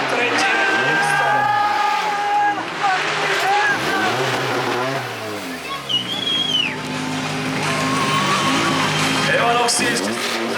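A race car on a street course in Ostrava, its engine loud and close as it revs and shifts through rising and falling pitch sweeps, with a commentator talking over it throughout.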